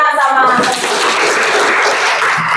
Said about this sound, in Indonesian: Kasih tepuk tangan sama.